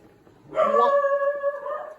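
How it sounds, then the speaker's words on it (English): A dog lets out a single drawn-out, howling bark that sustains for over a second, loud and close, with no talking over it. "Oh, she never barks like that."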